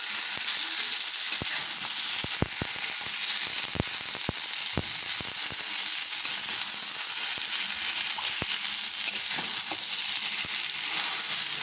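Fried eggplant sizzles steadily in a frying pan, a dense, even hiss with scattered sharp pops and crackles close up and no talking.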